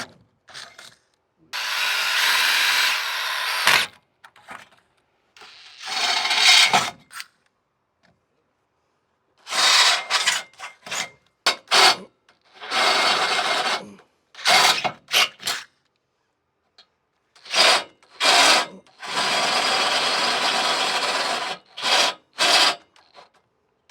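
A power drill grinds into a steel frame in a series of short, harsh bursts separated by pauses of silence, close and loud, stepping up from a small pilot bit.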